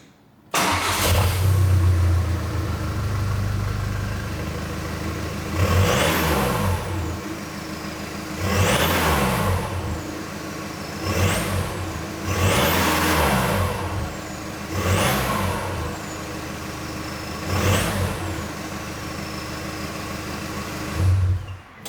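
A car with a newly fitted exhaust starts up and settles to a loud idle, then is blipped about six times in a row, each sharp rev rising and falling back before the next.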